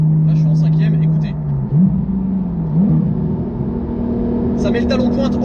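A Porsche GT3 Touring engine drones in fifth gear in sport mode, a loud steady low hum with pitch shifts as it blips during shifts, while someone speaks over it at the start and end.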